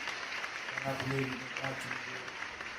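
Steady audience applause at a live lounge show with a music guest, a dense crackling clatter running the whole clip under someone speaking over it.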